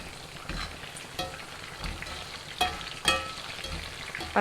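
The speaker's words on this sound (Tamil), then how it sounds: "இது 7லேருந்து 8 நிமிஷம் வரைக்கும் நான் பொரிச்சு எடுங்க" Korean-style prawns deep fry in hot oil, a steady close crackling sizzle with occasional louder pops and stirring bumps.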